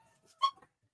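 A dog barks once at moderate level indoors in a house, a single short bark amid a quiet room.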